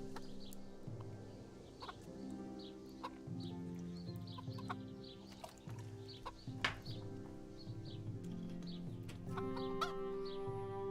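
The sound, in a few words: hens clucking in video game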